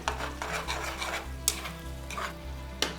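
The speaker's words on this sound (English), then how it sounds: "I take the pasta from the boiling water straight into the pan." Steady frying sizzle as boiled pasta with some cooking water goes into a hot pan, with stirring and occasional sharp scrapes of a utensil against the pan, close and continuous.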